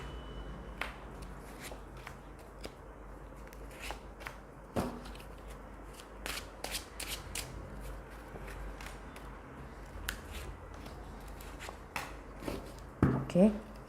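Repeated soft, crisp shuffles and taps of a tarot card deck in an irregular rhythm, close and fairly quiet, with a brief louder rustle near the end.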